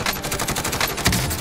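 Rapid automatic gunfire in Call of Duty Warzone, a fast steady string of close, punchy shots packed tightly together over a short burst.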